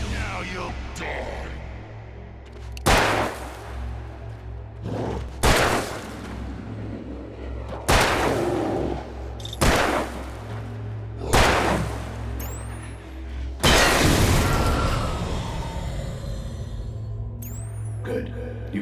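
Gunshots in Alan Wake Remastered ring out as a series of about seven sharp, loud, evenly spaced blasts with decaying tails, the last one longest, over a low ambient hum.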